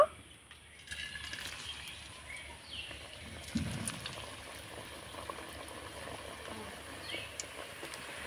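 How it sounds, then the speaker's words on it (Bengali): Potato snacks deep-frying in oil, a faint steady bubbling hiss with small pops, quiet and continuous, with no voices. "তো এই স্ন্যাক্সগুলো আমি একইভাবে করে ভেজে নেব"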